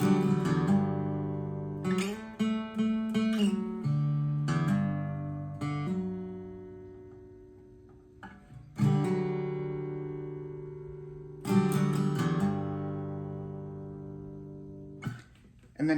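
Acoustic guitar playing the intro of Zach Bryan's song Starved, close and clear, with quick picked and strummed chords in bursts, ringing sustains that decay between phrases, and several pauses in a loose, uneven rhythm, with no singing or speech.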